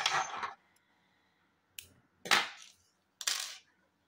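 Scissors snip through crochet yarn while a bear-shaped crochet bag is assembled, giving four crisp, close cuts separated by short silences, with no voices.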